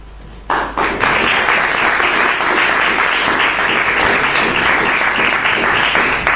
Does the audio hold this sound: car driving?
no